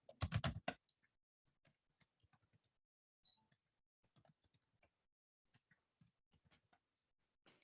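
Quick soft keystrokes on a computer keyboard, starting with a brief loud burst of rapid clicks, then sparse faint taps scattered across an otherwise quiet room.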